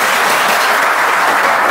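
Steady, dense applause from a school audience, a broad wash of many hands clapping at once, loud and close, with no voices rising above it.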